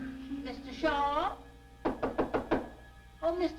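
Five quick, firm knocks on a door land in a tight burst, with voices talking just before and right after.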